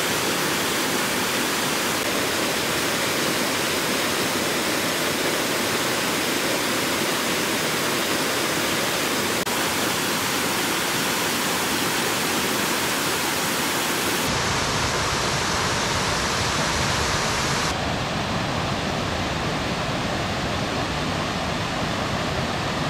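Wagner Falls in Michigan's Upper Peninsula, a steady broadband rush of falling water that stays loud and constant throughout, with no voices.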